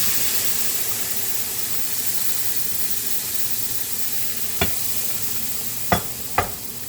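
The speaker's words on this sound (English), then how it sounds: "Now I'll add the milk." Milk added to browned, roasted semolina with melted sugar for semolina parsad, giving a steady loud hiss and sizzle throughout, with a few sharp spoon clinks against the pan near the end.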